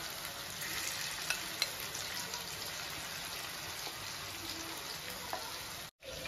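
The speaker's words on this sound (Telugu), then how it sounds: "అవి తీసేసి మళ్ళీ ఇంకొకసారి ఫ్రై చేస్తూ ఉందామండి" Chicken pieces deep-frying for restaurant-style chilli chicken, a continuous loud hiss and crackle of hot oil, steady throughout with a brief dropout near the end and no talking.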